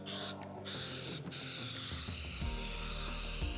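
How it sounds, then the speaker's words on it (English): An aerosol can of spray adhesive hisses steadily as it coats a pool table deck, a close continuous spray with brief gaps early on, over a low background hum. "I'm going to grab our spray adhesive."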